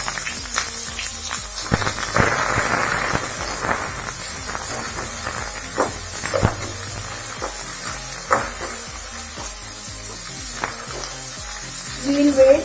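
Onions frying in a pan for an Indian-style macaroni pasta, a steady broad sizzle running throughout with occasional stirring clatter and brief bursts of hiss, close and moderately loud.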